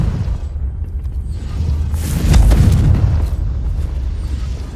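A Confringo spell explodes in a magic-themed video game, a single deep rumbling boom with a swelling blast that rises and fades over a couple of seconds above low ambient noise.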